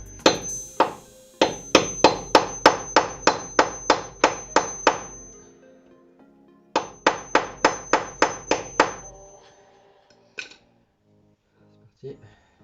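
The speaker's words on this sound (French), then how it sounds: "Petit coup de marteau." Sharp hammer taps ring out against metal while a Nissan 350Z is taken apart, first a fast run of about a dozen even strikes, then a second series after a pause, followed by a few isolated knocks.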